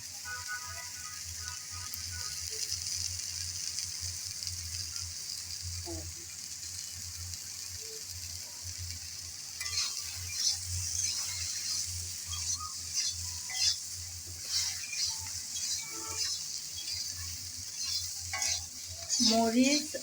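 Chopped pointed gourd frying in a pan with chili and cumin powder gives a steady soft sizzle, joined midway by repeated scraping and stirring strokes of a utensil that grow busier toward the end.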